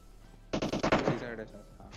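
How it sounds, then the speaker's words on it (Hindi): Gunfire in the mobile battle royale game PUBG Mobile, likely from a Groza rifle: a sudden loud burst of rapid automatic shots after a quiet start, then a fading tail. "भैया लेफ्ट में गोली चलाए जा रहा हूँ पूरी गोली पेल दी"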